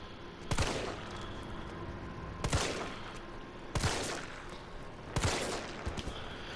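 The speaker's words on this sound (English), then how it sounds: "Just gonna get some quick headshots in. We're gonna poke him." Four heavy gunshots ring out at steady intervals in Resident Evil 3 as zombies are shot, each a sharp blast with a lingering echo over a quiet game backdrop.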